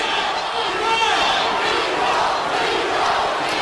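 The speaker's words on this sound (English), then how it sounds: "the crowd is doing the Rocky thing, but just chanting Nico" Arena crowd at an MMA fight chanting a fighter's name, a loud sustained roar of massed voices with rhythmic chant rising throughout.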